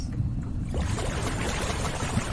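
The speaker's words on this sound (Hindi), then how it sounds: "ये समंदर की आवाज।" Ocean water in a Windows video game: a continuous watery wash and gurgle, quieter at the start and then filling out into a steady, close surge.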